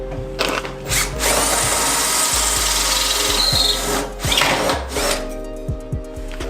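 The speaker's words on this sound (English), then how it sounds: "This drill bit is a little bent and a little dull, so hopefully it makes it through." A power drill with a bent, dull bit grinds into material in a car engine bay with a rough, scraping whine, cutting in and out in bursts with brief pauses between passes.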